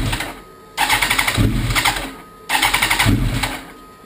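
A Kawasaki ZX10R motorcycle on its stock ECU map cranks without firing: two loud, close starter bursts of about 1.7 seconds each, with a fast rhythmic whirring chug and a short pause between them.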